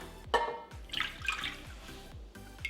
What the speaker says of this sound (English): We're gonna pour the cream back into the pot now.